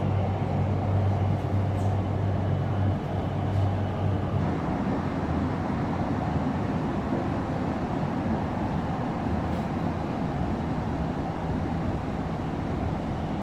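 A subway train runs through a tunnel in a Chinese city at night, giving a steady, heavy low rumble with a droning hum early on, continuous and enclosed with no voices.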